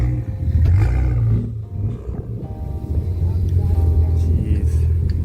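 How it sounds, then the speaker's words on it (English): A BMW M2 with a Supreme Technic exhaust revs loudly nearby, its deep engine roar rising and dipping over several seconds, with brief voices under the exhaust note. "We actually recently got a Supreme Technic exhaust. Sounds sick."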